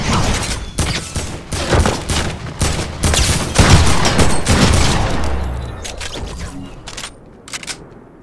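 Rapid bursts of video game gunfire crack out loud and close, with many closely spaced shots for several seconds that thin out into a few isolated shots near the end.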